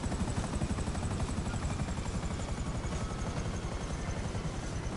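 Helicopter in the video game GTA Online, a steady loud rotor drone with a buzzing whine held evenly throughout, close and continuous with no talk over it.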